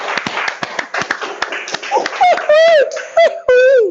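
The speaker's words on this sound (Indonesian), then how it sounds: "Tepuk tangan dong" A handful of claps ring out during a school podcast with a principal, quick scattered hand claps near the start, after which a voice talks over and past them.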